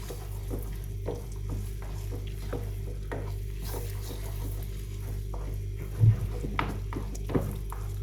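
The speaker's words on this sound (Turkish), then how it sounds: "Şöyle normal yemek yediğimiz kaşıkla bir kaşık salçamızı güzelce kavuracağız bunun içinde." A spoonful of tomato paste, with butter, fries in a pot as filling for stuffed meat dolma, giving a low steady sizzle under repeated scraping strokes of a spoon and one louder knock; close and without speech.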